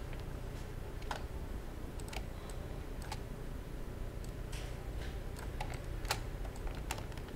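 Computer keyboard keys pressed while drawing in Adobe Illustrator for a GTQ illustration exam, a scattering of light, sharp clicks at irregular intervals over a steady low background hum, with no one speaking.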